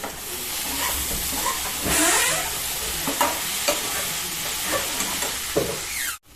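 Okra and onion frying in a pan are stirred steadily, giving a loud, continuous sizzle and hiss with repeated scraping strokes of the spatula close by.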